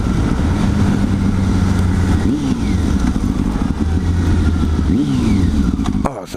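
A Honda Hornet motorcycle engine idles loud and close with a steady low rumble, then revs sharply twice in quick rising bursts that fall back to idle, before cutting off near the end.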